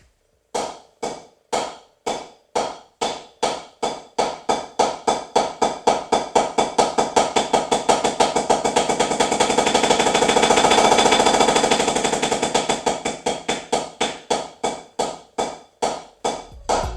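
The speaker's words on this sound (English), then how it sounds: "single stroke roll, the rudiment you probably already been playing. All this is alternating between hands." Rapid, evenly spaced single stroke roll on a drum, hands alternating, sharp and loud, swelling to a dense buzz in the middle before separating again.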